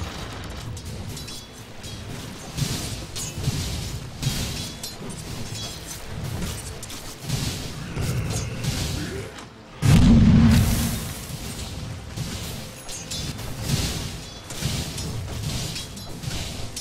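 Explosions ring out in a Dota 2 match as a tower comes under attack, with one loud, deep boom near the middle standing out over steady game effects and battle clatter.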